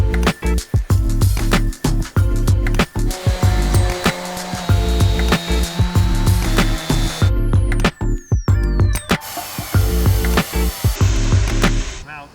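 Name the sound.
sawing MDF sheets into slats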